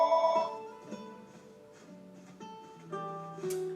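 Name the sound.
telephone ringing in the room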